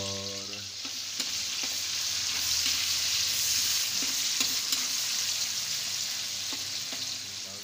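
Meat and onions fry for chowmein with a loud, steady sizzle, punctuated by occasional clicks and scrapes of stirring against the pan; nobody speaks.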